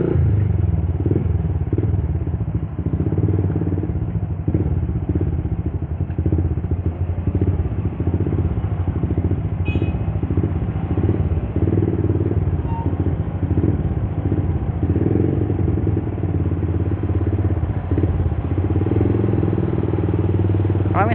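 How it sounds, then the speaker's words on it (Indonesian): A Yamaha Vixion motorcycle fitted with a long, noisy aftermarket exhaust runs steadily nearby, its low engine rumble pulsing and clattering continuously with a faint voice underneath. "kisi Nisa knalpot ini agak berisik gitu guys"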